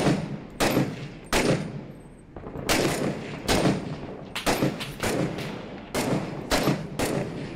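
Repeated gunfire in the combat game Six Days in Fallujah, sharp loud shots in uneven bursts with deep thuds between them, close and continuous with no talking.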